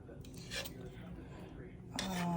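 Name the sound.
cooking pot being handled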